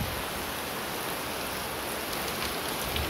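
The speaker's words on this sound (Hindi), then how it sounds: "बहुत तेज बारिश हो रही है।" Heavy rain pours down in a steady, dense hiss, close and constant with no breaks and no voices.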